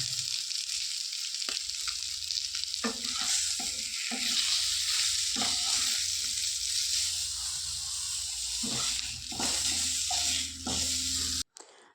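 Fish frying in a pan: a steady, close sizzle with crackling pops that runs for about eleven seconds before cutting off abruptly near the end, with no talking.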